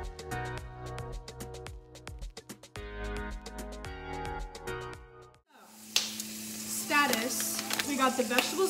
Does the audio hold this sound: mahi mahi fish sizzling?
yes